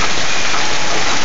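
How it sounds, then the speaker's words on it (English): Hail pelting a metal roof during a short winter hailstorm in Warren, Massachusetts, a dense, steady broadband clatter and hiss of many small impacts, continuous and fairly loud throughout with no voices. "I would call this hail, not sleet"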